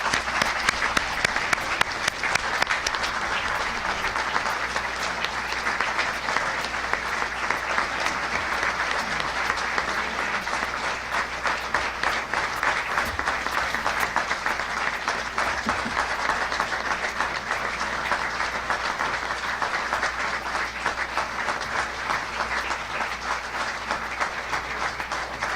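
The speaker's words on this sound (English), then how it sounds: "So I would like you to join me in a round of applause." Applause for a 2002 Immaculate Heart girls basketball team at an evening gathering, a steady crowd clapping that carries on evenly for about twenty-five seconds with a faint low hum beneath and no speech.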